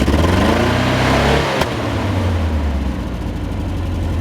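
A Datsun B210 engine revs hard, its exhaust blowing out through the muffler, then drops back toward a lower steady idle rumble close by.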